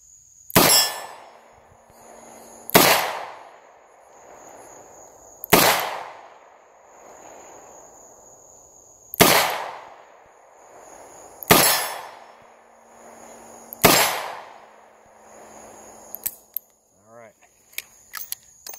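Smith & Wesson 66 revolver firing magnum rounds during a speed-reload drill, six loud sharp shots spaced about two to three seconds apart, each ringing out and decaying, followed by small clicks and rattles.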